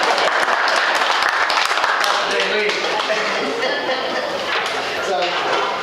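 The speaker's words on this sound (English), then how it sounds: "Now you're supposed to applaud." Audience at a candidates' night event applauds, a dense, steady wash of many hands clapping that stays loud throughout, with a busy room murmur beneath it.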